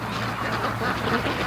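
Brant geese give soft, low honking calls in a steady chorus near a creek mouth among decoys, moderately loud against outdoor background noise.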